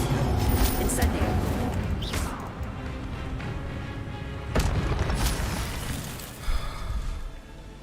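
The Incendio fire spell cast in a Harry Potter video game, heard as booming, rumbling bursts of flame with a sharp crack near the middle, loud and close, while a voice speaks over it.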